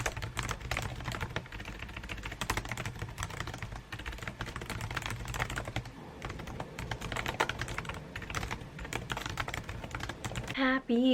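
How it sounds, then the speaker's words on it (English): A computer keyboard clacks with rapid, continuous keystrokes, close and crisp, with brief pauses and a faint voice near the end. "Please enjoy some keyboard clacking noises"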